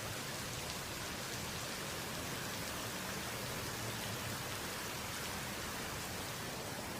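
A rainstorm pours as a steady, dense hiss of rain falling outdoors, loud and unbroken throughout, with no voices.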